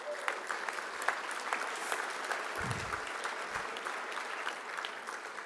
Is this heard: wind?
no